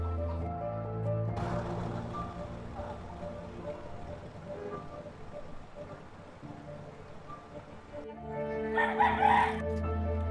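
After a stretch of low background murmur, a rooster crows loudly and close by near the end.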